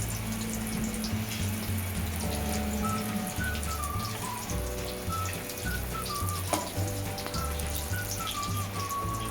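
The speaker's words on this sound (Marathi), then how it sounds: "अशाच प्रकारे सर्व मिरच्या तळून घ्यायच्या आहेत बेसन पिठामध्ये बुडवून." Besan-batter-dipped green chillies for Maharashtrian mirchi bhaji sizzling steadily in hot oil, a continuous close hiss and crackle with no breaks.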